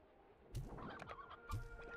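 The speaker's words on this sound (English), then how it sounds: "Bye-bye, chickens." Chickens cluck softly in a video game ranch, a few short clucks in two bursts, faint and close, with no talking.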